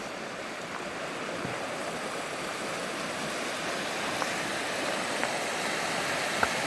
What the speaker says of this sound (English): beautiful, eh? Waterfall.